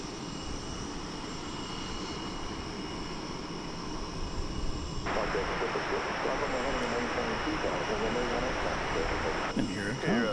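Jet engines roar steadily from an airplane taking off at DFW Airport, a broad distant rumble heard from the Founders Plaza viewing area at dawn. It swells louder partway through and keeps going to the end with no words spoken.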